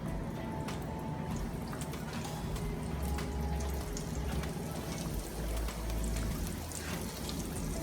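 Chicken pieces fry in hot oil, a continuous bubbling sizzle with scattered crackles and pops, steady and fairly soft throughout.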